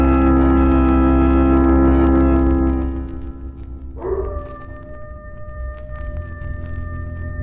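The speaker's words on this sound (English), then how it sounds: "Not a sound anywhere, Lamont, except that coyote off in the hills." A coyote howling off in the hills at night in a radio drama, long sustained tonal wails that fade and then rise again in a new pitch, over a low hum.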